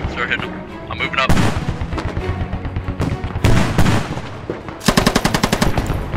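Rapid bursts of PKP machine gun fire in the video game Squad, three loud close strings of shots with quieter distant gunfire and battle noise between them.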